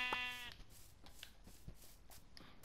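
Sheep bleating in a video game: one short bleat at the start, followed by quieter scattered game sounds, with no talk.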